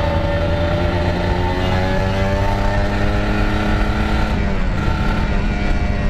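Kawasaki Ninja RR150 motorcycle from 2010 with a newly rebuilt engine, a loud, steady two-stroke revving drone held close by, rising slightly in pitch near the end, with no voices.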